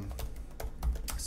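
Computer keyboard typing, a few separate bursts of keystrokes at a moderate distance over a quiet room hum, with no talking.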